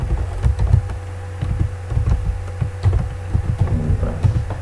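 Typing on a computer keyboard while entering text in MS Word, a fast, uneven run of close, crisp key clacks and thumps continuing without pause.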